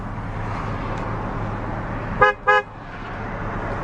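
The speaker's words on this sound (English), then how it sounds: "Fires right up." A 1999 Chrysler Town and Country Limited all-wheel-drive van with 164,000 miles idling after start-up, a steady low engine hum broken by two short horn toots near the middle, close and clear with no talking.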